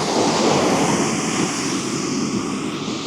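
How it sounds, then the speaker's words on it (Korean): Large winter ocean waves surge and crash on a beach during shore fishing, a loud continuous roar of surf with wind buffeting the microphone, no voices. "파도가 어마어마하네요"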